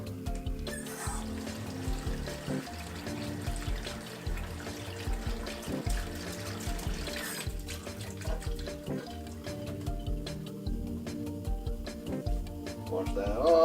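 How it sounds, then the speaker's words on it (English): Tap water runs steadily into a kitchen sink as potatoes are rinsed and stirred by hand, with a continuous splashing flow and occasional knocks against the basin, over faint background music. "Wash that off. Mix them around. Get some of the starch out."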